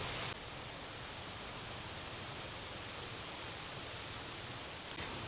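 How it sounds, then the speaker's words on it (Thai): Steady rain pours down at Wat Phu Khao Thong temple in Ayutthaya, a dense, continuous hiss that holds evenly throughout with no voices. "ทำกลางสายฝนที่โปรยปลายลงมา อยู่ ๆ ก็ตกเลยนะครับ"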